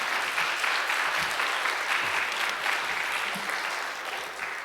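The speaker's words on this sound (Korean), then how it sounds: "영광의 박수 올려드리면서 목사님 맞이하시겠습니다." Church congregation applauding to welcome a pastor, a continuous dense roar of many hands clapping at once, steady and full, easing off slightly toward the end, with no voices heard.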